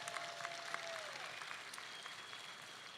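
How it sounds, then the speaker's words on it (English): Steady, dense applause from a commencement crowd honoring the Chancellor, moderately distant and continuous for the whole stretch, with a faint whistle-like tone drifting through early on. "Let's give our Chancellor another round of applause."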